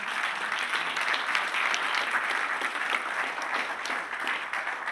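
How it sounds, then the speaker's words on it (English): A room full of people claps steadily at a space medicine talk during an Asteroid Day festival, a dense even applause that holds at the same level throughout. "We can give them a round of applause."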